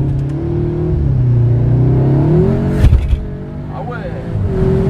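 A 2019 Seat Leon Cupra accelerates hard on the road, its engine note climbing loudly from inside the cabin, with a gear change and people talking in French over the revs.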